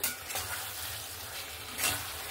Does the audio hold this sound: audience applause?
no